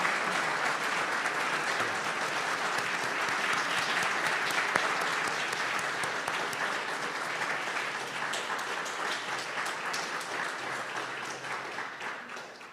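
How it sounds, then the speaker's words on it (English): An audience at a completion ceremony applauds in a sustained round of clapping, dense and steady at first and gradually thinning toward the end. "I wish you would all give him another round of applause."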